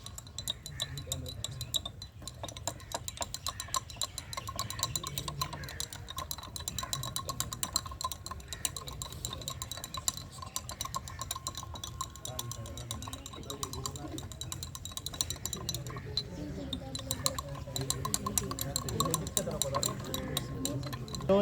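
A spoon stirs solute into solvent inside a glass, producing rapid, steady ticking clinks that continue throughout, under a voice that talks over them.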